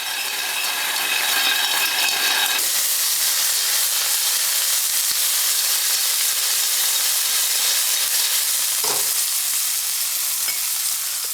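Clams sizzle in hot oil in a pan, a loud, dense, continuous frying hiss that swells after a few seconds, with a brief clatter near the end.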